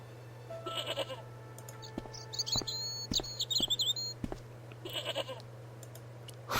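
Goat bleats from the point-and-click game Broken Sword, a tethered goat tangled on an old plowshare: two clear wavering bleats at start and end, with chirpy game effects and clicks between over a steady low hum.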